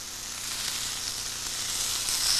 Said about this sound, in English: So you can just lay those steak strips right there on the grill and hear that sizzle.